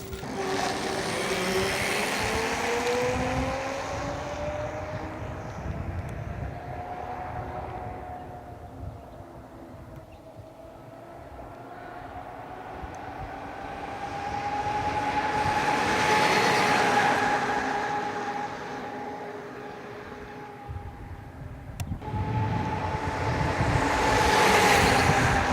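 A 6000W all-wheel-drive Excalibur electric bike accelerates and passes by, its motor whine rising in pitch and swelling loud as it nears, then fading before another rising, close pass.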